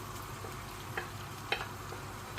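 Onions and mushrooms frying in a pan for a beef steak and mushroom pie, a steady low sizzle with a few sharp spatula scrapes and stirs, close and fairly quiet, no talking.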